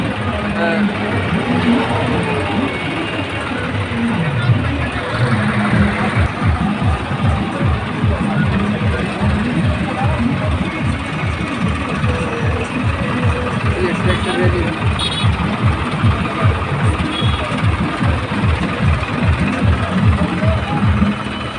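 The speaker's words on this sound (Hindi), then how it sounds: "ट्रैक्टर रैली है और भारी संख्या में ट्रैक्टर हैं" A large procession of tractors in a rural tractor rally rumbles past, with a steady, rapid thumping diesel chug and mechanical clatter that continues throughout under someone talking loudly.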